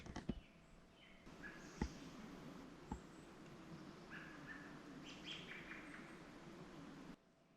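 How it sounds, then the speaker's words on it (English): Faint bird chirps and twittering scattered over a quiet outdoor background in Olympic National Park, Washington, with a few soft clicks and rustles nearby. "Do you hear the birds singing?"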